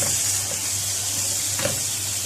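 Meat dropped onto sautéed onions and garlic in a hot pan, a continuous close hiss of sizzling with a brief stir or scrape near the middle, no talking.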